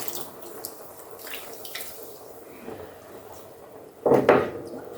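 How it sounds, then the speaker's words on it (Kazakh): Water poured from a cup into a pot of cherries steeped in sugar for jam, heard as a short, close splash and gurgle that rises briefly from a quiet kitchen background. "Үстіне бір кеседей су құйып жіберемін."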